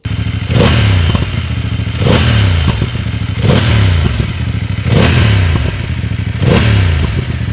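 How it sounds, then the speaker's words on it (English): BMW F900GS adventure motorcycle (2024) with an Akrapovic exhaust, revved in repeated blips: five sharp rises roughly every 1.5 seconds over a steady loud idle rumble, close and with no talking. "We're just going to do a sound test so you can listen to this Akropovich exhaust."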